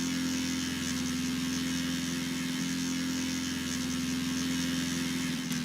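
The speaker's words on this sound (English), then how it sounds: "it seems like the engine's revving fine" A steady engine drone from a tank-track vehicle built in the game Gearblocks, revving evenly with a constant low hum and buzzing overtones, loud and unbroken with no talk.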